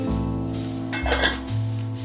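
Potatoes frying in a pan in a home kitchen, a steady close sizzle with a low hum underneath and brief clinks of utensils midway.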